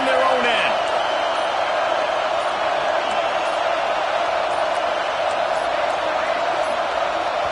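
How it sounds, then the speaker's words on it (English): A stadium crowd in an American football video game roars as a constant, loud wall of noise, with a commentator talking over it throughout. "The roar of the crowd trying to fuel this defense to keep them pinned in their own end."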